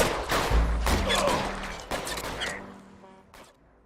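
Rapid bursts of video game gunfire in a police detective shooter, a loud fusillade of overlapping shots with heavy thuds that gradually fades toward the end.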